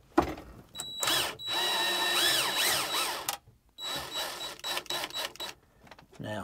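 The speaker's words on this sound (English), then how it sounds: "I'm going to use a cordless drill to speed things up a little bit" A cordless drill backs screws out of an airplane panel while a Dynanav GPS unit is being removed, giving close, moderately loud whirring bursts of varying speed, separated by short pauses and quieter clicks.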